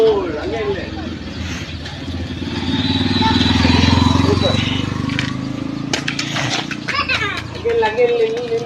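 A motor vehicle draws near and swells in loudness over the middle of the clip while children play and shout close by, their voices continuing over the engine hum.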